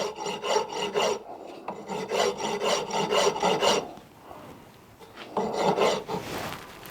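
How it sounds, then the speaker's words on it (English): A coarse hand file worked flat across a two-stroke cylinder barrel makes steady, close rasping strokes in an even rhythm, with a short pause partway through and no talking. "I'm just going to use a manual mill, a nice coarse file, and just slowly and gently file away until we get it all level."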